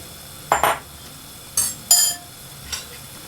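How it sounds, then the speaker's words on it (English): Chopped pineapple pieces get a few quick stirs in a pan, giving several short scraping clinks and brief bursts of sizzle against a quiet background, close by. "Just going to give that a quick stir."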